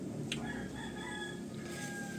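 Several caged pet birds kept in breeding pairs call and chirp with thin, high tonal notes across a steady noisy background, and one bright burst stands out near the start.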